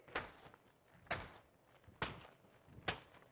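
An object is struck against a person's knee, giving four dull, fairly faint thumps at an uneven pace, each a short percussive hit with no voices between them.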